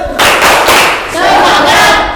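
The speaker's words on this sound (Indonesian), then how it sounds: "Tepuk semangat." Schoolchildren in an Islamic religious education class do a rhythmic clapping chant, loud and close, with shouted voices and claps in bursts that briefly dip in the middle before rising again.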